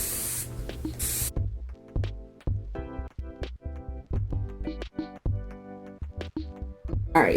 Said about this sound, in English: I like to take my spray bottle, and I'm just going to spray the hair.